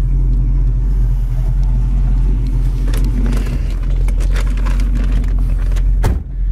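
A 1968 Chevrolet Camaro convertible runs warmed up at a steady idle, a loud, close, deep rumble that holds even throughout, with a slight rise near the end.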